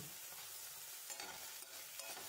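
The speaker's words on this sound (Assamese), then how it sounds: "নিমখ আৰু হালধিখিনি লৈ এইখিনি মই লৰাই ভাজি থাকিলোঁ।" Eggplant is stir-fried in a pan with salt and turmeric for a sorsori dish, giving a steady, soft sizzle with faint scraping stirs throughout and no voices.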